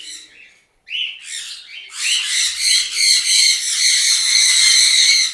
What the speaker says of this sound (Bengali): এগুলো সবই মাস্টার পেয়ার পাখি।